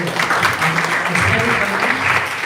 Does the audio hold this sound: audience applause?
yes